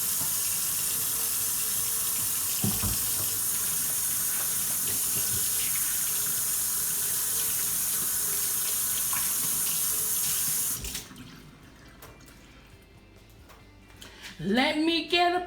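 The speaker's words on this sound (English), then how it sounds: "let me wash my hand" A kitchen tap runs in a steady rushing stream while hands are washed at the sink during jerk chicken preparation. It stops near the end, followed by a brief clatter and a voice.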